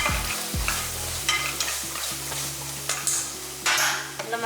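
Egg scrambled and stirred in hot oil for an egg masala gravy, a steady close sizzle with repeated scraping stirs in the pan, no talk.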